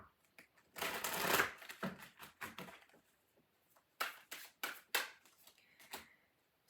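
Halloween oracle cards are shuffled close up in several crisp bursts of riffling and flicking, separated by short pauses and ending in a few sharper snaps.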